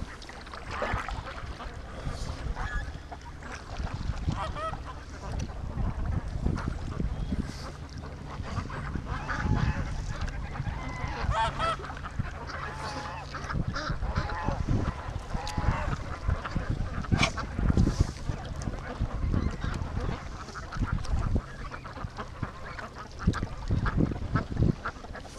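A crowd of ducks on a lake quacks and honks continuously, dense overlapping calls at close to middle distance with splashing and water noise underneath, no voice over them.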